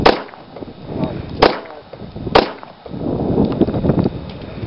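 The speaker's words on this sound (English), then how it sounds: "Two shots, then three shots." Pistol shots ring out at a Texas CHL qualification: three sharp, loud cracks roughly a second apart, each with a short ringing tail, followed by a duller rustling stretch.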